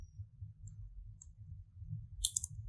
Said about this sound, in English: I have to move it with arrow keys with keyboard